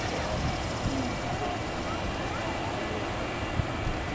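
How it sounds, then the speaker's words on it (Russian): A Delta airliner takes off at Reagan Washington National Airport, heard as a steady, broad jet-engine roar at moderate distance that stays even throughout. "Вот сейчас Дельта взлетит, наверное, и будет посадка."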